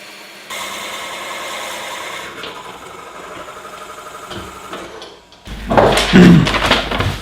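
A drill bores into bog oak on a woodturning lathe for a pepper mill. A steady whirring grind runs for several seconds, eases off, and then a loud, rough, scraping burst of cutting follows near the end.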